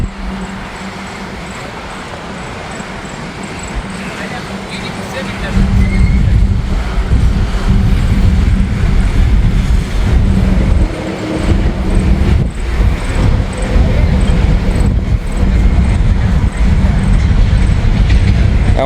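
A freight train lumbers slowly past nearby, the heavy rumble and clatter of its cars swelling loudly after a quieter opening and continuing steadily to the end.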